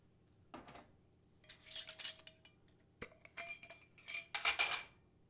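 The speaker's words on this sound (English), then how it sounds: "I'm going to put some orange and lavender together in a mason jar" Dried orange peels and lavender dropped into a glass mason jar, giving several bright clinks and rustling clatters in short bursts, close and fairly quiet with pauses between.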